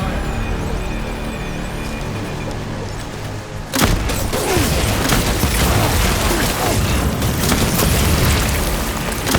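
Gunfire in Death Stranding Director's Cut breaks out suddenly after a quieter stretch, a dense, continuous barrage of loud shots and booms carrying on to the end.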